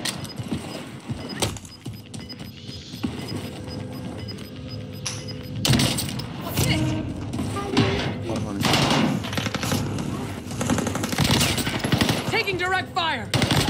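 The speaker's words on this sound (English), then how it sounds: "Taking direct fire." Rapid bursts of automatic gunfire in Call of Duty Rebirth Island, loud and close, with clustered shots and scattered single cracks amid chaotic game noise; a player's voice is heard over the action.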